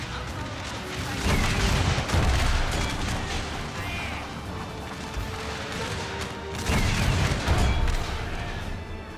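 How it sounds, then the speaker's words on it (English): Canister shot artillery fire in a First Manassas Civil War video game: heavy booming volleys and crackling fusillades roll in two loud bursts, with battle noise continuing between them. "We're going to open up with canister shot."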